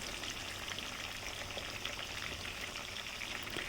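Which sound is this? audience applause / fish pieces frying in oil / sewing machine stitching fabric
fish pieces frying in oil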